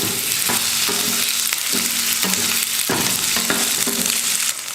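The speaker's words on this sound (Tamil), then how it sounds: "ஒரு 5 நிமிஷத்துக்கிட்டவே நான் நல்லா ஃப்ரை பண்ணிக்கிட்டேன்." Cut potatoes frying in a pan with mustard seeds and cumin make a loud, steady sizzle, broken by regular scraping strokes of a spatula roughly every half second, close and with no speech.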